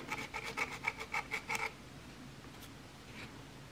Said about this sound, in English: Cover here, just scrape inside carefully to try not to let anything fall into the